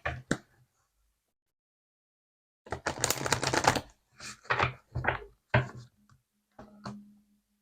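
Tarot oracle cards are handled and drawn in short bursts of crisp shuffling, slapping and sliding, separated by silent pauses, with no talking.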